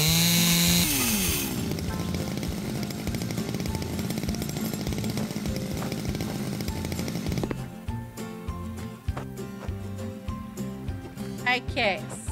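A chainsaw cuts a tree in the House Builder video game: a loud, steady buzzing whine that shifts to a rougher, more broken tone partway through, with a voice heard at times.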